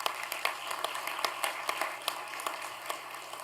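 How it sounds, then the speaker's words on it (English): Many hands clap in a steady wash of applause for UAB head football coach Trent Dilfer, with sharper individual claps popping out over the indoor crowd noise at a moderate distance. "Another round of applause for Coach."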